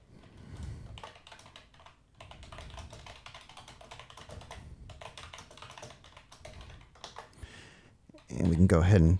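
Keyboard typing during a Dynamics 365 for Sales demonstration, a run of quick light key taps under steady close talking, ending in a louder burst of noise.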